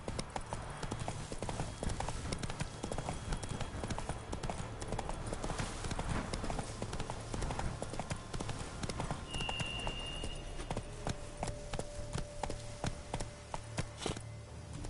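Steady clip-clop of a horse's hooves in a video game, a continuous close trotting rhythm that runs throughout, with a brief tonal game sound partway through.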